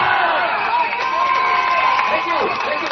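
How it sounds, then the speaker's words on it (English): Crowd of Bishan-Toa Payoh residents at a PAP general election rally in Singapore clapping and cheering steadily after a candidate's speech, a loud, dense wash of applause with whoops and voices mixed throughout. "Once again, a round of applause for the very candid speech to all you Bishan-Toa Payoh residents"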